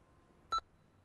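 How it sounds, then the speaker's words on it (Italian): A single short electronic answering machine beep, clear and close, with harmonic tones, set against a quiet background with no talk. "Dopo il secondo bip."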